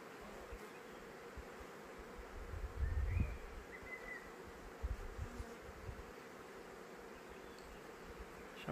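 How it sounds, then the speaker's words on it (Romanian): Honey bees buzz on a beehive frame, a faint, continuous hum with a few louder passes of single bees close by and some handling thumps. "albina acum iarăși se duce la loc, se așează pe ramă"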